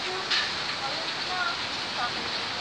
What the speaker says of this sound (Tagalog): Ang lakas ng ulan dito. Tingnan mo kung gaano kalakas yung ulan.